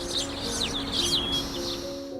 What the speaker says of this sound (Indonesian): Burung-burung bernyanyi.